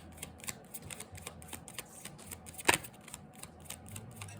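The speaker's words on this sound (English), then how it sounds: "I'm going to pull some numerology cards" Cards being drawn from a numerology deck during a tarot reading, with soft repeated papery flicks and shuffling rustles, nearby and fairly quiet, including one sharper snap near the middle.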